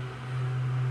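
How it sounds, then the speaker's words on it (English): An electric fan runs steadily nearby, giving a low constant hum with a faint airy whoosh and no talking. "I'm sorry about the fan"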